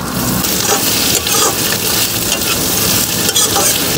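Onion and garlic fry loudly in a pan for a desi chicken curry, a dense close sizzle with steady stirring scrapes and occasional spatula knocks throughout.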